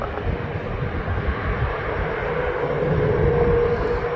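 Airliner engines at Milwaukee airport, including a 717 preparing to push back, a steady broad roar at moderate distance with a faint whine rising near the end, no voices.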